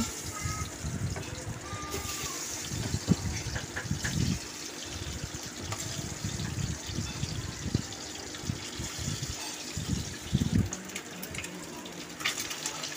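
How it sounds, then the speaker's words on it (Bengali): Eggs slipped one by one into hot white oil in a pan for an egg curry give a steady broadband sizzle and crackle, with a few soft knocks and clatters in the foreground. "তেলটা গরম হয়ে আসলে ওর মধ্যে আমি একে একে ডিমগুলো সব ছেড়ে দিচ্ছি।"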